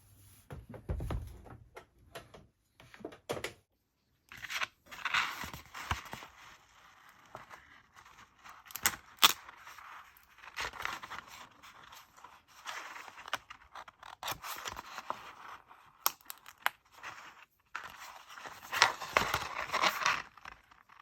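Infusible Ink transfer sheet for a Cricut mug press is weeded and peeled by hand, making intermittent close scraping, rubbing and crinkly peeling bursts separated by quiet gaps, with no talking.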